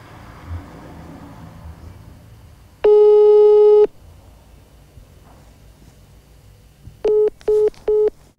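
A telephone busy signal on a call that goes unanswered: one long steady tone, a quiet pause with faint background hiss, then three short evenly spaced beeps.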